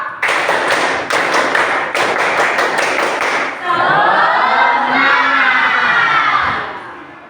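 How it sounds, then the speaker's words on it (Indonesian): A class claps together in quick rhythmic bursts for a few seconds in a 'tepuk semangat' cheer, then children's voices shout and cheer loudly in unison. "Sekarang tepuk semangat. 1, 2, 3."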